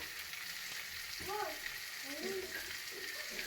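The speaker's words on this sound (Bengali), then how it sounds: "এবার গরম মশলা গুঁড়ো দেওয়া হলো ভালো করে কষানো হচ্ছে" Potatoes and green peas stir-fried with garam masala in a kadai give a steady low sizzle, with scraping stirring strokes and a few faint tonal squeaks over the hiss.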